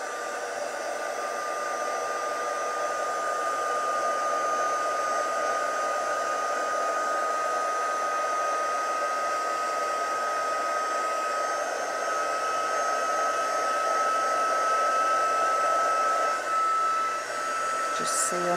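A crafting heat tool blows hot air in a steady, even whoosh that runs the full length at close range, drying stamped paper on a craft mat, with a faint speaking voice underneath.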